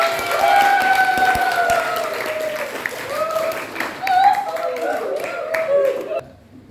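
Students in a geography classroom clap together for a classmate, a steady patter of many hands that runs for several seconds under overlapping voices and chuckles, then stops abruptly near the end.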